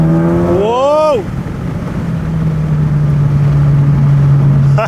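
A car on new tires pulls hard in second gear, its engine note rising quickly to a peak, dropping at the shift, then settling into a loud steady drone close inside the cabin.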